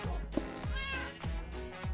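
A pet parrot imitating a small zombie or skeleton sound gives a series of rough, meow-like squawks with gliding pitch, repeated about four times in close succession, loud and near.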